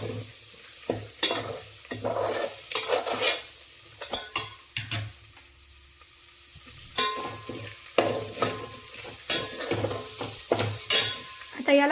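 Ingredients for horse gram pulao sautéed in a pan, with repeated scraping stirs and clinks of a spoon against the pan over a steady frying sizzle, close and fairly loud, with a quieter pause midway.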